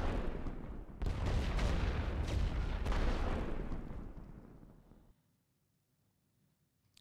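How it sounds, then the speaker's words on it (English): An artillery barrage in The Great War: Western Front, with dense, rumbling explosions and booms piling over one another for about five seconds before cutting off into near silence. "I love the sort of, like, I don't know, V-shaped explosions with artillery."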